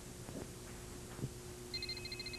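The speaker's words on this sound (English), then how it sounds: "The phone is ringing." A telephone ringing faintly in a cable-access wrestling studio, short repeated electronic trills near the end over a steady low background hum.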